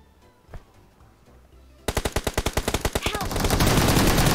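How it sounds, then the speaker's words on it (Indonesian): Rapid automatic gunfire in the battle royale game PUBG: after a faint single shot, a fast, steady string of loud close bursts begins and swells into a dense, sustained roar of shots. "Yang nembak lo dimana bang?"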